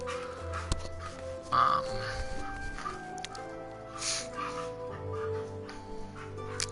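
Pet dogs playing indoors yip, whimper and give short barks in the background, faint and scattered across the clip, with other household sounds mixed in.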